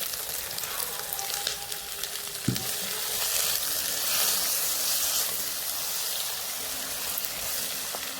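Small onions sizzle steadily in hot oil, a dense continuous frying hiss with a brief clatter as they go into the pan and a faint low hum beneath.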